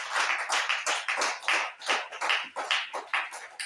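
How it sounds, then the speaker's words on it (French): A congregation claps hands at a church worship service, a dense, steady burst of applause close and loud throughout, with no talking over it. "Applaudis pour toi-même."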